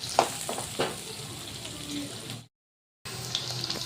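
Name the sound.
onion and green chillies frying in a pan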